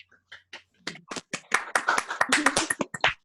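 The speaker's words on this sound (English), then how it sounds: "So we'll do a little clap." A small scattering of hand claps from an online video call, starting sparse and building into quick, uneven applause from a few people, slightly thin and close-miked.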